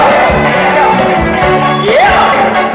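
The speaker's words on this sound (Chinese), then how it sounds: "掌声给他们好不好？" A loud audience at a lively group performance cheers, shouts and whoops continuously, with a dense wash of many voices.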